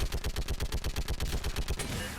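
Turret guns in a video game fire in a rapid, evenly spaced burst of about twenty close, loud shots, then stop abruptly.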